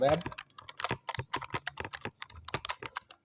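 A computer keyboard is typed on in quick, irregular bursts of clicks while HTML code is entered. The keystrokes are close and fairly soft, with a brief pause or two between runs.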